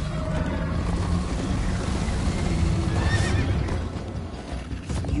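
A horse in the Minecraft Story Mode video game neighs and clip-clops at a steady run, loud and near, over a constant rush of ambient noise with no talking.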